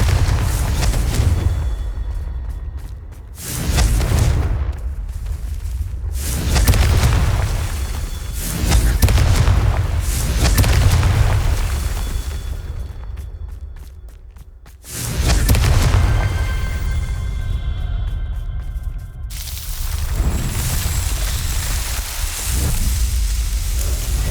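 Confringo fire spells explode again and again in the Hogwarts Legacy video game: a run of heavy, booming blasts with rolling rumble, one after another with short gaps, loud and close, with no talking.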